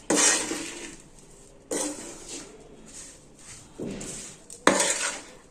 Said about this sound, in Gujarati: લાલ મરચું પાવડર બધું પ્રોપર રીતે મિક્સ કરી દેશું આ રીતે